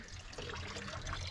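Water running and trickling away as it drains off a plot of open land at Setipakh, a steady close wash of flow with no talking.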